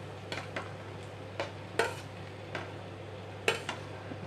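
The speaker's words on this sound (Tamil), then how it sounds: "ஃபுல்லாக மிக்ஸ் பண்ணிடுங்க" Protein mix being stirred into cooked vegetables in a pan: a handful of sharp utensil scrapes and clinks against the pan at irregular intervals, moderately close, over a steady low hum, with no talk.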